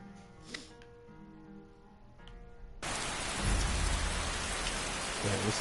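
Steady rain pours down in the video game Skyrim, a dense, loud wash of drops that switches on abruptly partway through after a quieter stretch of ambient game sound.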